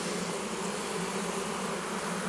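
Honeybees hum inside an old horizontal Layens hive, a dense steady buzzing drone close up and quietly continuous, with no voices.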